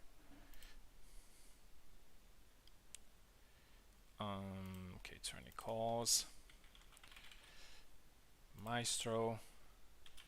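Rapid keyboard typing from a Hellish Quart player in a wooden swords tournament runs faintly and steadily beneath bursts of a man's speech.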